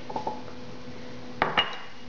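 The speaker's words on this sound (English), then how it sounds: "I just mix this all up." Spices and garlic being mixed into yogurt in a bowl, heard as a few light utensil clinks against the bowl early on, then two sharper, louder knocks near the end, close and alone with no talk.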